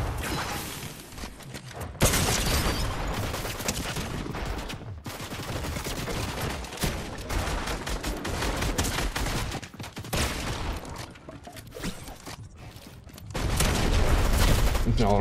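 Rapid, loud gunfire from a Fortnite match comes in dense bursts with short gaps between them, near and harsh throughout.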